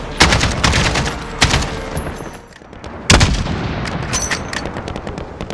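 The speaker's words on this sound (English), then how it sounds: "Gunfire, reloads, environmental audio, it all has weight and impact." Gunfire in Call of Duty: Modern Warfare (2019), with loud bursts of rapid rifle and machine-gun fire and heavy booming shots in the near distance, punctuated by sharp cracks and a brief lull before another volley.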